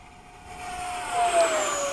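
A Hawk model aircraft in flight after dark at Bayside, its engine a faint, distant whine that rises slightly as it passes, with no voices.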